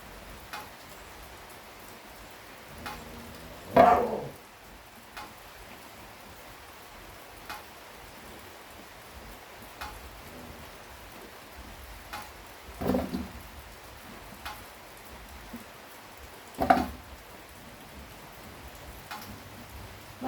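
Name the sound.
rain falling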